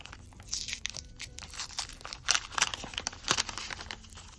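Crinkling paper surprise packet with a Stitch figure inside, a homemade advent calendar gift, being opened up close: a run of crisp rustling, crunching and tearing bursts with a few sharper crackles, no talk.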